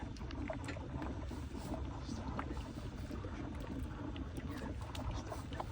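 An oil extractor hose gurgling and bubbling as it draws the last oil from the pan of a Mercedes-Benz GLS 450, a continuous churning, sputtering rumble close to the microphone.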